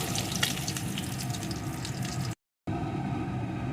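Small puti fish fried in hot oil being lifted out of the pan, a steady crackling sizzle with a brief break before the frying resumes, no voices.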